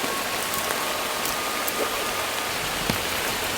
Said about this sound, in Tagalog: Medyo lakas talaga ng ulan.